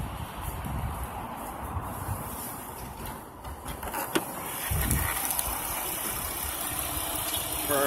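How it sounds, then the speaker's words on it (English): A 2015 Dodge Grand Caravan SE minivan engine idles with a steady, low mechanical rumble, and faint rustling is heard nearby. "Let's go back to the engine so you can hear how it sounds."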